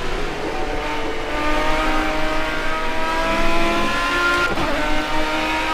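Inside Project Cars, a race car's engine roars under hard acceleration, a dense, steady whine with rising harmonics, loud and continuous for several seconds with no voices.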